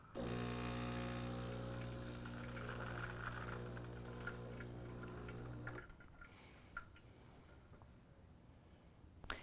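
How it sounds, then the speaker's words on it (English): A loud steady hiss of hot water streams out of a Gaggia Anima espresso machine's frothing arm with a humming drone, then cuts off, leaving quiet drips and faint clicks. "we can just dispense that hot water straight through the frothing arm"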